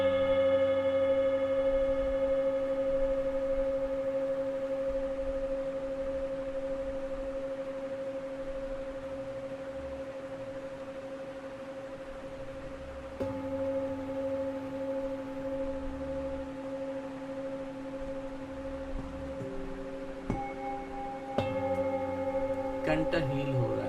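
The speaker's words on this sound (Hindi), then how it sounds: "अभी आप इस नाद को सुन रहे हो, वाइब्रेशंस को सुन रहे हो।" Sustained, steady harmonic tones from a chakra sound healing session, droning evenly and loud with layered overtones, shifting pitch partway through and gaining extra ringing tones near the end; no talk over it.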